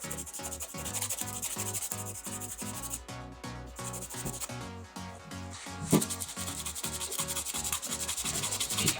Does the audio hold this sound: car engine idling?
no